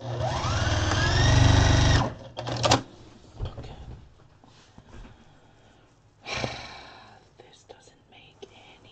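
A sewing machine stitches a fabric pot holder shaped like a chicken, running in a loud steady burst for about two seconds, then stopping; a second short burst follows later, with quiet breathy sounds in between.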